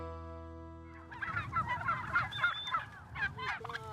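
A flock of turkeys on an Indiana turkey farm gobbles and clucks in overlapping bursts. The calls are close and fairly loud and follow a few seconds of steady tonal hum.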